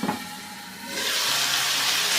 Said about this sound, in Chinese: 两面煎到微微金黄，然后盖上锅盖，给它煎煮2到3分钟